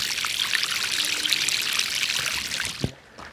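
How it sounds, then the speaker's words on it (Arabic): Water flowing in a valley stream at a small waterfall makes a steady, close, full rushing wash that runs unbroken, then drops away abruptly near the end after a single soft thump. "سمعتوه الصوت ديال الماء الاخوان ديالنا؟ ها هي الصوت ديال الماء."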